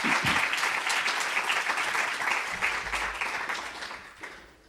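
An audience in a conference hall applauds to welcome a professor before a lecture, a dense, sustained wash of clapping that holds strong and then fades out toward the end.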